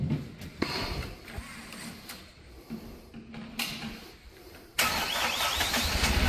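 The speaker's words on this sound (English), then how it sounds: "we're going to go ahead and fire it up just so you can hear the engine run" A 2018 Princeton PB55.3 truck-mounted forklift engine cranks and catches, running at a steady idle before revving louder near the end, close and fairly loud.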